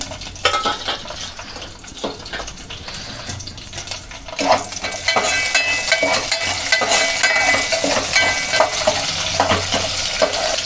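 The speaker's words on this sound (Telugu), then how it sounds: "మిరపకాయలు వేయించుకుందాం దానికోసము ఇప్పుడు మిరపకాయలు వేసేసుకున్నాం" Dried red chillies frying in a pan for a vegetarian chutney, with a steady sizzle and crackle and the clatter of stirring, growing fuller and busier partway through, with no talking.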